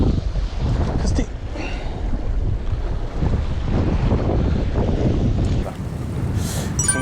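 Waves and wind on a small fishing boat at sea during a Spanish mackerel outing, a steady rushing wash of water and gusting wind noise buffeting the microphone throughout, with a few brief clatters near the end.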